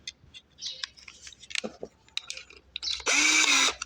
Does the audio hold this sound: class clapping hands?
no